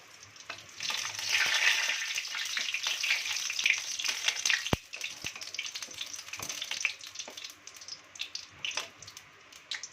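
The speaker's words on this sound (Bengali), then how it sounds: "শুকনো লঙ্কা ফোড়ন দিলাম তেজপাতা" Dried red chillies and a bay leaf sizzle loudly in hot oil as a Bengali dal chicken tempering begins, with a steady crackling hiss that eases slightly after a sharp clink midway.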